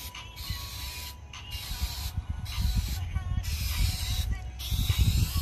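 A spray gun lays paint onto a car at home in a continuous, close hiss that surges and pauses in several passes, steady and fairly loud with low rumbling underneath.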